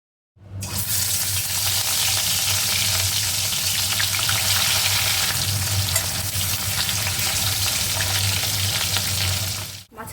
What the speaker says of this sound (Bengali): জিরে তেজপাতা ফোড়ন দিয়ে আলুটা ভাজা ভাজা করে নিয়ে